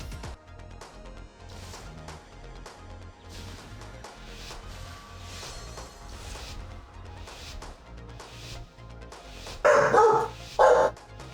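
A dog barks in two loud, close bursts near the end, cutting over a steady bed of video game music and effects during a mythic raid boss test.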